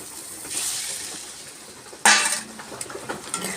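Hot water poured into a pan of mung dal and vegetables, a soft rushing pour followed by a sudden sizzling hiss and clatter as the water hits the hot pan, close and fairly loud.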